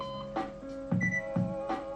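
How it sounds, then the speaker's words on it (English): A countdown timer gives off a short run of electronic beeps, about four evenly spaced tonal pulses, moderately loud against a quiet background. "So that is the timer."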